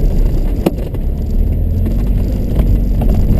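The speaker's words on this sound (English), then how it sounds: "Shifting to third. Braking." A car driving on ice shifts into third gear and brakes, giving a steady low engine drone with a few faint scraping crackles from the tyres, loud and close throughout.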